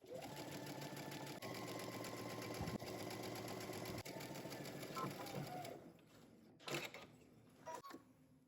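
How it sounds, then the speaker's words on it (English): A home sewing machine stitches a jumpsuit side seam from the hem upward at a 5/8 inch seam allowance, running as a steady close mechanical whir for nearly six seconds before stopping, followed by faint handling clicks. "we're gonna go ahead and stitch, starting again at the hem, working our way up using 5/8 of an inch seam allowance"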